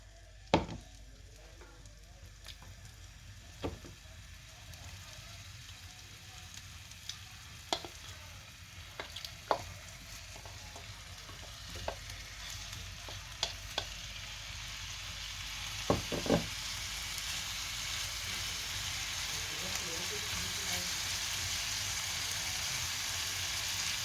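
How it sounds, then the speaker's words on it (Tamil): Cubes of paneer fry in bubbling butter with a steady, close sizzle that grows fuller toward the end, punctuated by sharp knocks and scrapes of a spatula on the pan. "பட்டர் பாருங்க கொதிச்சிட்டது பன்னீரை போடுறோம் இதை கொஞ்சம் நேரம் பொறிக்கணும்"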